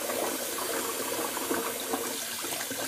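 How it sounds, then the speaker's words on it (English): Water drains from a bathroom sink after a wet shave, a soft continuous gurgling and trickling close by, with no one speaking. "I'm just going to empty the sink."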